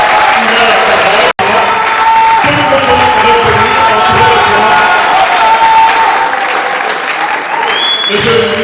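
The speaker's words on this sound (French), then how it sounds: "nous allons applaudir" Audience applause in a hall for a Congolese government minister taking the floor, dense sustained clapping with some cheering and whoops, loud and close, interrupted by a brief dropout and tapering slightly toward the end.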